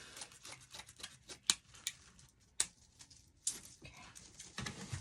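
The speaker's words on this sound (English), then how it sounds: "Now let's cut a couple more pieces." Scissors snip through deco mesh for an evergreen wreath, giving a few sharp, irregular close-up cuts with soft rustling of the mesh in between.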